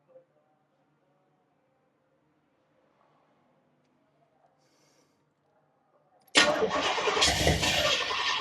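A 455 big block engine in a G-body car cranks and fires up after a long quiet stretch, roaring loud and close into a steady rough run for the final two seconds.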